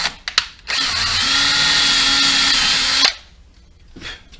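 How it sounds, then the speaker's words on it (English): A power drill whirs steadily for about two and a half seconds, loud and close, then stops abruptly, leaving faint handling noise. "I'll drill a hole in here"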